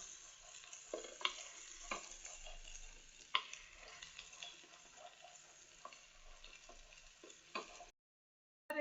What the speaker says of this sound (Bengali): এবার এটা আমি নাড়াচাড়া করে নিব